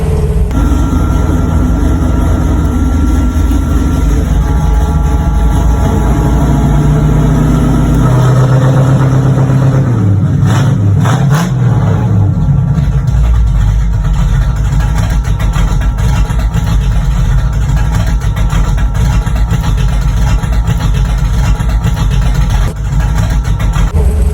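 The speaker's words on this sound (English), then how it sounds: "the engine that I had built for it is a 1968 Ford FE390 factory crank." A car with a 1968 Ford FE390 engine rumbles loudly and close, idling roughly, then revving up and dropping back midway before settling into a heavy, steady idle, recorded on a phone.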